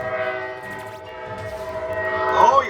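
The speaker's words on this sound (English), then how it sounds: "Oh, you stupid train!" A train passes outside a window and sounds its horn, the sustained tonal blast holding steady and then swelling louder near the end over a low rumble of rail traffic.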